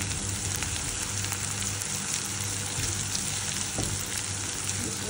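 Onion and tomato frying in a pan for a dried fish curry, with a steady, dense sizzle close by, stirred now and then, continuous and without talk.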